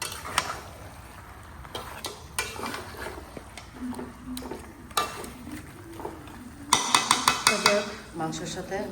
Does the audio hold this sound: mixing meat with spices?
yes